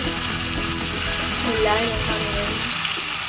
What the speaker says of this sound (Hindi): अब मैं इसमें मिर्ची का पेस्ट ऐड करूँगी।